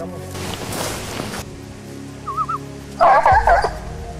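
A Spanish hound (sabueso español) gives a short burst of yelping barks while tracking wild boar on cattle-grazed hill terrain, after a stretch of rustling noise, the barks fairly close and loud.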